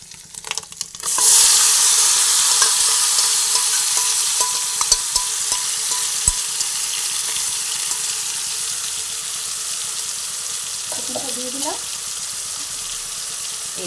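Chicken drops into hot oil with fried ginger and erupts into a loud, steady sizzle that slowly settles into a continuous close frying hiss, with occasional faint clinks.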